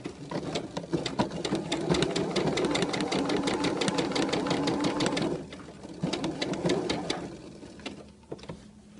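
A sewing machine stitches a seam in fabric, its needle hammering in a fast, steady rhythm for about five seconds, then pausing briefly before a second shorter burst of stitching that slows and trails off, close and alone without talk.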